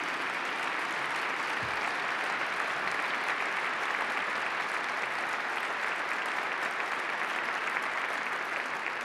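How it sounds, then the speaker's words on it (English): Large audience applauding at a celebration of the 50th anniversary of Apollo 8, a steady, dense wash of clapping that holds evenly loud for the whole stretch without talk. "please, if we could get a round of applause for Ellen Stofan"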